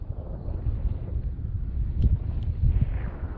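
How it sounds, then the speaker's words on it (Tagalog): Cold wind blowing along Tai Mo Shan Road in Hong Kong, buffeting the microphone as a steady low rumble with gusts swelling toward the end. "Ang nalamig ng simoy ng hangin dito."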